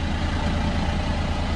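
A boat engine idles steadily with a deep, even low throb and a constant mechanical hum, close and unbroken throughout, with no voices.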